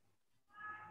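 A cat meows once, a fairly clear drawn-out call rising out of near silence in the second half of the moment.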